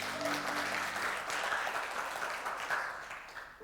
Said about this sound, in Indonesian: Tepuk tangan jangan setengah-setengah,